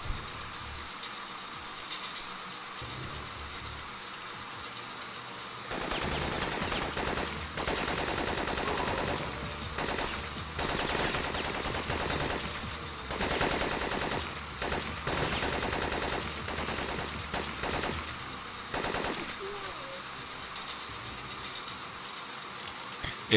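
Enemy gunfire in the PS1 game Syphon Filter, set on a street: after a quiet opening, long sustained bursts of automatic fire rattle on and off, loud and steady, with no talking.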